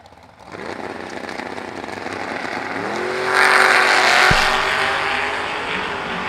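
A dragster and a roadster launch at a drag race, engines building from a rumble into a loud rising roar that peaks and holds, heard close and without speech.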